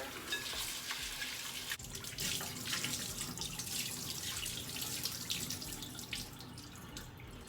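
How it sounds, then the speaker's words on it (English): Steady running tap water splashes into a bowl, with light swishing and dripping as grains are rinsed, fairly quiet and close. "I love when the rice water is a little bit clear."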